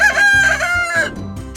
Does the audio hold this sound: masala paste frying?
no